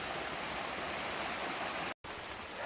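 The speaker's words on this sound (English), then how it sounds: "if it doesn't stop raining" Steady, dense rain hisses without a break, broken only by a momentary gap in the sound.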